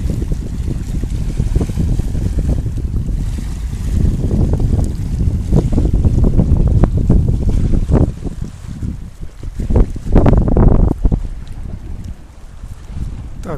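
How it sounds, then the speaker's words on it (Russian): Sea surf at a beach in the resort town of Nea Kallikratia, Chalkidiki, Greece, a steady broad wash of water close by with wind buffeting the microphone and surges swelling around the middle and end. "Еще и послушать море."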